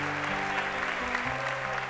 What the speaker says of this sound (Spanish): Ese aplauso que se escuche